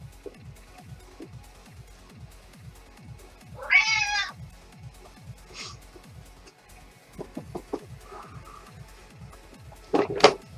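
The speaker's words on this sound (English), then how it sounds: "My cat is apparently dying for attention." House cat meowing for attention indoors, a few separate close meows spaced across the stretch over a low rhythmic ticking hum.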